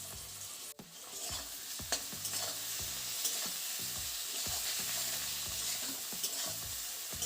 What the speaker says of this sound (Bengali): এইভাবে কয়েক মিনিট ভাজতে থাকবো পেঁয়াজটাকে